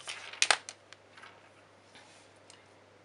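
Short coloured pencil strokes on paper make a few close, sharp scratchy ticks near the start, then fainter scattered scratches fade into quiet.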